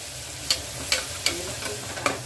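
Oil sizzles steadily in a pan with onion and garlic frying while a spoon scrapes and stirs in several quick, regular strokes.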